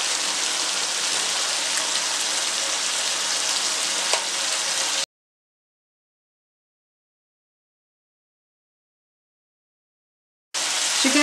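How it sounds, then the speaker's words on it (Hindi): Chicken legs fry in masala in a pan, giving a steady crackling sizzle for about five seconds that cuts to silence, then resumes briefly at the end. "अब आप देखें कि हमारी चिकन लेग तकरीबन फ्राई हो चुकी हैं, भून चुकी हैं"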